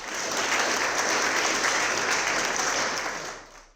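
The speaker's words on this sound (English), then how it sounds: "Let's give a round of applause to our panelists." A burst of audience applause for conference panelists, many hands clapping steadily for a few seconds before tapering off.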